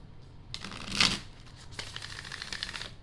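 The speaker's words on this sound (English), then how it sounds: "I'm hearing shuffle." Tarot cards being shuffled close up in two bursts of quick riffling, the first with a sharp peak and the second a longer crisp flutter, quiet and with no talk.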